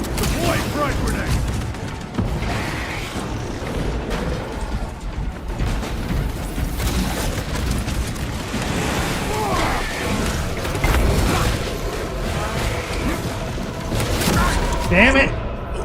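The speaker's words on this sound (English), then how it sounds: "Deploy frag grenade!" Frag grenade blasts and dense combat noise fill a Space Marine 2 battle, with heavy booms and crashing debris layered over continuous gunfire and clanking mechanisms, loud and near throughout.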